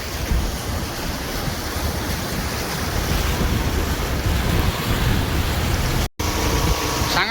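Waves roll in a steady, loud wash on the flooded waters of Chilika lake in a village setting, with wind rushing over the microphone and a brief dropout near the end.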